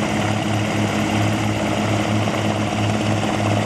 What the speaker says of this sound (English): They're driven by an industrial motor that runs on propane.